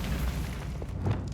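A Bombarda spell explodes in the video game Hogwarts Legacy with a dense, low booming rumble that stays loud and steady through a short burst, with no voices.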